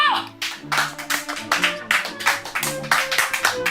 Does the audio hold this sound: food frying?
no